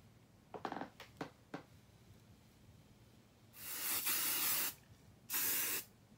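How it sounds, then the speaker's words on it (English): Hairspray is sprayed while styling hair with extensions: a few soft clicks and rustles, then two strong, close hissing spray bursts, the first lasting about a second, the second shorter, with no talking. "Hairspray."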